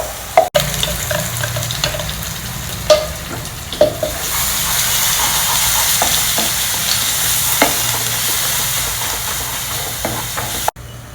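Ground masala frying in a pan on a low flame, with a soft sizzle that swells and holds steady, broken by a few sharp clinks and scrapes of stirring.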